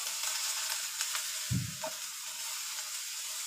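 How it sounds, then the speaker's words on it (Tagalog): Black fungus stir-frying in a hot pan for stir-fried vegetables with egg tofu, a steady faint sizzle with a brief louder splatter midway, no talk. "Ang black fungus guys, na magtatalsikan yan habang niluluto mo siya."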